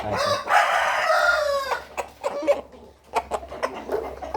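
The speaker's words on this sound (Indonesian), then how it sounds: "dia tuh berkokok setiap hari, berkokok pagi, siang, dan sore" A rooster crows once, loud and drawn out, followed by a string of short clucks and chicken sounds nearby.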